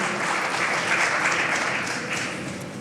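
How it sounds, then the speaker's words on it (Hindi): A crowd at the BMA Visionary Awards 2022 ceremony applauds loudly to welcome a chief guest, a dense, steady wash of clapping that continues evenly throughout. "एक बार बहुत ज़ोरदार तालियों के साथ इनका अभिनंदन करें।"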